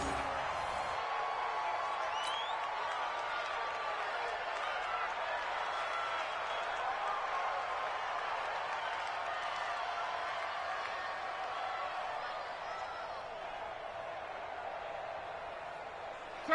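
A steady crowd roar fills the stands at Arrowhead Stadium during a Colts vs Chiefs football game near the goal line, a broad, sustained wash of cheering that holds evenly from start to finish.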